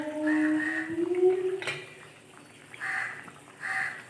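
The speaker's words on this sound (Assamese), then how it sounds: "আমাৰ ইয়াতে ইমান কাউৰী আছে জানেনে" Crows caw outdoors near a home kitchen, a few separate harsh calls spaced apart at moderate distance with quiet background hiss between them.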